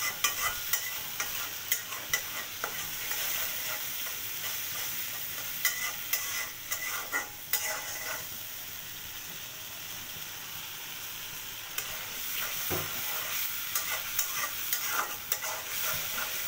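Spice masala sizzling and being stirred in a frying pan for a fish roe dish, a steady bright fry hiss with scraping stir strokes throughout, close and continuous.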